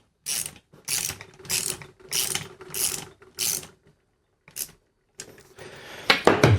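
A 10mm socket ratchet tightening engine crankcase bolts, clicking in several quick bursts of close, crisp pawl ratcheting with brief pauses between strokes, then a rougher metallic rattle at the end.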